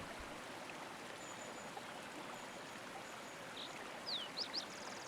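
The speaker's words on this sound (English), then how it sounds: "The creek's murmur fades gradually" A flowing creek at night murmurs steadily, a soft, constant broadband wash of water with no talk, joined near the end by a few faint high chirps.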